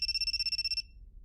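A flip cell phone rings in the video game Totono with a rapid electronic trill, a steady run of fast pulsed beeps that stops abruptly after under a second, moderately loud with no talking.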